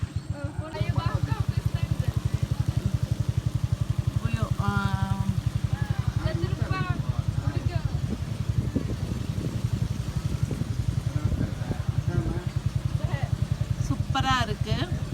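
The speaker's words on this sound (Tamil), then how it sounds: "நம்மளை கூப்பிட்டு போகிற போட் வந்து மோட்ரு போட்டு பார்க்கலாம்" A motorboat engine runs steadily throughout, a loud, continuous low throb with a fast pulsing rhythm, while voices talk over it.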